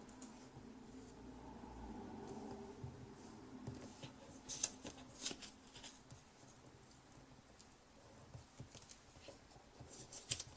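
Stacked sheets of paper, being made into a 3D Christmas tree bauble, have their corners folded over the top sheet, making soft, quiet crinkles, taps and rustles close by in irregular bursts.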